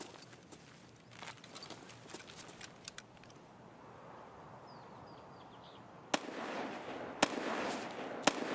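Grenade blasts boom in the shooter game Escape from Tarkov, a few sharp, distant-sounding cracks and thumps scattered over a quiet stretch, with two louder bangs near the end.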